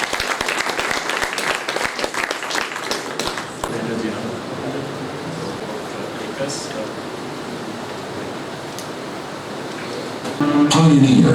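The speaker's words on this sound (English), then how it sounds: "Please give a round of applause." Audience at an industry-academia conference on mechanical engineering clapping in a brief burst that fades within a few seconds, followed by quieter room noise and a voice.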